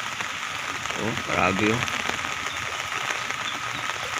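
Heavy rain pours steadily during a flash flood in Santa Clara, a constant hiss of water close by, with a woman briefly exclaiming over it.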